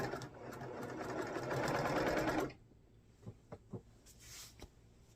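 A sewing machine joins small quilt pieces in a fast, steady run for about two and a half seconds, then stops, leaving a few soft clicks and taps.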